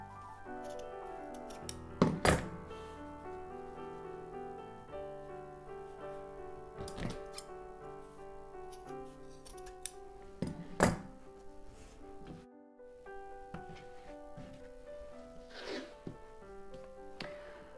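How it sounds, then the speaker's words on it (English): Scissors cut through a sewn fabric piece for a summer beach bag, slicing it into four pieces with a few sharp, close snips and quieter crisp cuts in between. "we're going to cut it into 4 equal pieces"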